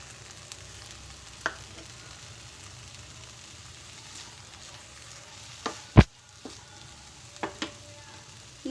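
Fenugreek leaf curry is stirred and fried in a pan: a soft, steady sizzle carries under occasional sharp clinks and scrapes of the spoon, with no talking.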